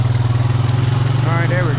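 A vehicle engine drones at a steady, loud idle-like pulse while its tires spin in mud, unable to climb a hill on a rainy ride; a voice briefly murmurs underneath near the end.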